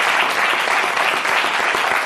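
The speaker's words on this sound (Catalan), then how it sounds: "Un aplaudiment per Montserrat Cuetas, la mare" Dense, even studio-audience applause on a Catalan television programme, clapping close and continuous throughout without any voices.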